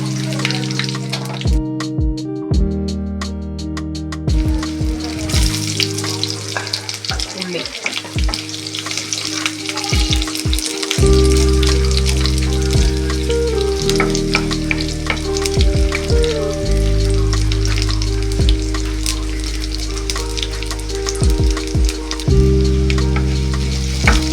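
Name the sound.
curry leaves sizzling in hot oil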